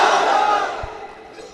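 A large gathering at a religious sermon roars back in unison to a Nara-e-Takbir call, a loud massed shout that gradually fades over about a second and a half.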